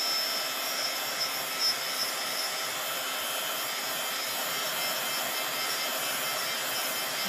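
A heat tool on a low setting dries artwork with a steady, close, unbroken whooshing hiss of blown air.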